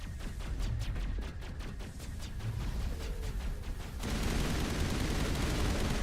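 Rapid bursts of automatic gunfire from a Mass Effect 1 firefight, dense and continuous, with a heavier, louder barrage taking over near the end.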